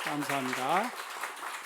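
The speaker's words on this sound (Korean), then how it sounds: "우리 찬양팀 우리 박수 한번 하겠습니다" At a Korean church service, a congregation applauds, a steady wash of clapping that continues throughout while someone speaks briefly over it.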